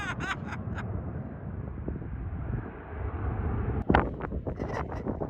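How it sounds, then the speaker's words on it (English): Airplane droning steadily overhead at an outdoor flying field, a broad engine rumble with wind buffeting the microphone and a brief loud knock near the end. "Here comes another plane."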